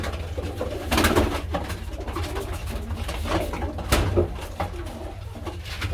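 Pigeons coo repeatedly in a loft, a hen among them, with soft overlapping calls, a few louder bursts and a steady low rumble and shuffling underneath.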